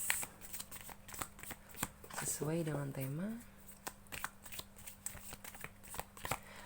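Oracle cards are shuffled by hand in crisp, repeated riffles and taps that run across the whole stretch, while a voice speaks briefly partway through.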